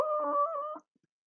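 A voice imitates car tires squealing as a car takes a corner too fast, one sustained, wavering high-pitched squeal that lasts under a second and stops abruptly, close and clear.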